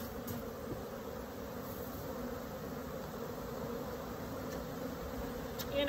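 A dense, steady hum of honey bees surrounds an open hive, many insects droning together at constant loudness throughout, close by and unbroken, with no talking.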